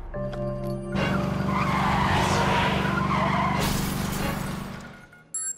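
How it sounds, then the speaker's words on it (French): An out-of-control vehicle in an animated cartoon skids along a highway, a loud, sustained tire screech with engine roar and some crashing texture that fades off at the end, with no dialogue. "Ryan, il y a un véhicule hors de contrôle en plein milieu de l'autoroute."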